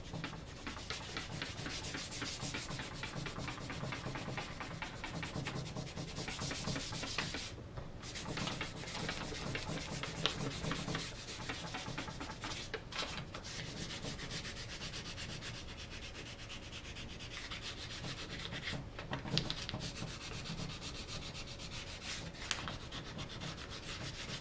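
Lightly sanding a wood gunstock filled with wood filler by hand using 220 grit sandpaper, giving a soft, steady rhythmic rubbing close up with no talking.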